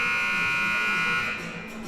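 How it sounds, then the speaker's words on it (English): Arena buzzer at a boys varsity basketball game between Linn-Mar and Iowa City West in Marion, Iowa: one long, loud, steady electronic blare that fades slightly near the end. "There's the buzzer"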